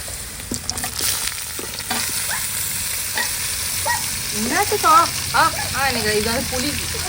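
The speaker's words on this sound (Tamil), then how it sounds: "ஆனா வெங்காயம் நல்லா வதங்கிடுச்சு" Onions sautéing in a home kitchen pan, a steady sizzle with occasional stirring scrapes, while voices talk over it throughout.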